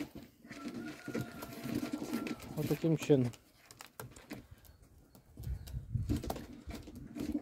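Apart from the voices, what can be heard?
pigeons (yellow Czech pigeons) released into a pigeon loft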